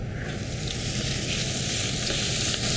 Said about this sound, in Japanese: 蓋をしてエチュベという、蒸し煮にしていきます。